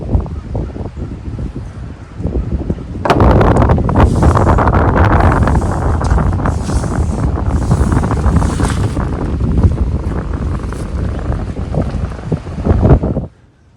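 Strong wind of about 20 miles per hour buffeting the microphone outdoors, a loud roaring rush that starts abruptly and holds steady for about ten seconds before cutting off.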